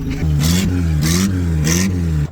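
A Toyota engine revs hard up close, rising and falling in three surging pulls over a steady loud drone before cutting off abruptly.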